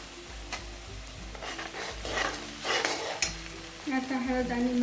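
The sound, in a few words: tomatoes added to a frying pan for okra masala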